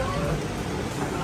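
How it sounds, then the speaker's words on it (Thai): Rain falling steadily outside a queue spot for fried food, a dense even hiss of drops on surfaces, moderately loud and continuous with no voices over it. "ฝนตกเรียบร้อย"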